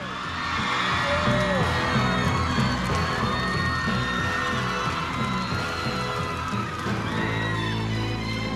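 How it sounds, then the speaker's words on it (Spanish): A studio audience at the final of a televised dance competition cheers and applauds the winning couple, a loud, sustained roar of clapping, whoops and shouts, with music playing under the crowd. "un gran aplauso para los campeones"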